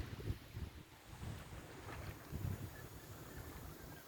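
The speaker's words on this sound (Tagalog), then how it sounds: "Kakaroon ng hangin no." Wind blows at sea around a boat, a steady rushing gust buffeting the microphone over a low rumble of water, with no voices.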